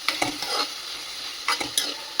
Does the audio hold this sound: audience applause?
no